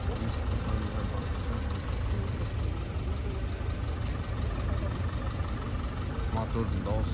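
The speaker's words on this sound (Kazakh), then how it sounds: "Мотордың дауысы қықырлап тұр бәрін." A used car's engine idles steadily with a rattling, knocking roughness throughout, heard close and constant while someone talks over it.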